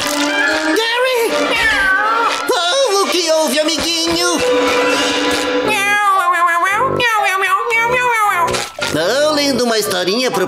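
Cartoon snail Gary from SpongeBob SquarePants meows like a cat in a voiced imitation, giving a loud, continuous run of drawn-out, wailing meows up close.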